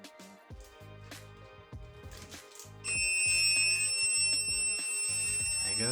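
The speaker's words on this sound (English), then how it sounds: "There you go, there's the beep." A low-water alarm on an iParts indoor hydroponics unit sounds a steady, sustained electronic beep tone that starts partway through and continues, clear and close, over faint background music.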